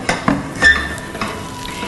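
Vegetarian fritters frying in hot oil in a pan that is shaken, giving a close, steady sizzle with a brief scraping rattle of the pan.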